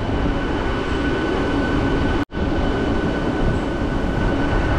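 A train pulls into Digha station, a steady broadband rumble of rolling stock holding at one level throughout, broken by a single abrupt cut-out partway through, with no voices.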